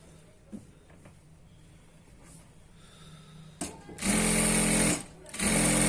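A sewing machine stitches the side seams of an ankle-length pant, running loud and steady in two bursts near the end after a quieter stretch of low background hum.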